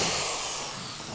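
A power drill boring a hole through a plastic self-watering container, heard as a steady, close, broadband whir that stays even and loud for about a second with no voices.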